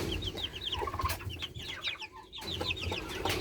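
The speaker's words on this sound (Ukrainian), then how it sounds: "Ось це півник, бачите?" Hens cluck in busy overlapping bursts, with a rooster among them, close by and steady throughout over a low background hum.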